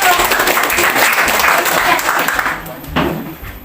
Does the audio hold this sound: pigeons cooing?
no